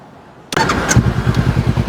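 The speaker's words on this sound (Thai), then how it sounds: "ฟังระบบเสียงเครื่องให้ฟังนะ" After a moment of quiet, a 2016 Honda CB500X motorcycle engine starts abruptly and settles into a steady, close idle with a regular low chugging.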